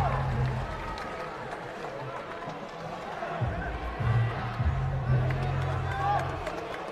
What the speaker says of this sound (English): Large crowd is getting excited.